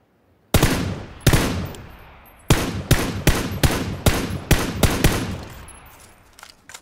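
SCAR rifle gunfire in a first-person shooter game, with a couple of separate shots followed by a rapid string of about eight loud, sharp cracks, each trailing off, then silence.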